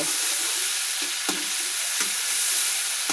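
Rohu fish oil frying in a pan, a loud, continuous close sizzle with a few soft stirring knocks at roughly one-second intervals.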